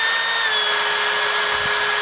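A power drill boring holes into the sheet metal of a Mazda 3 prepared as a cheap Nürburgring track car: loud, steady high-pitched whine running continuously at close range with no talk over it.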